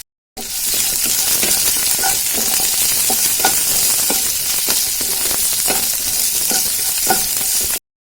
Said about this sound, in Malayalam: ഇത് നന്നായി വഴറ്റിയെടുക്കുക